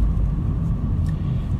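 Cabin of a 2013 Renault Fluence with CVT rolling slowly with the air conditioning on: a steady low rumble with a soft airy hiss, quiet and even throughout.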